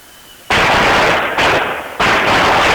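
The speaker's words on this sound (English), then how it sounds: "this amateur video shows armed men when gunfire broke out" Loud bursts of gunfire from armed men in Ukraine, sustained rapid firing broken by two brief drops, harsh and close, with no voices audible.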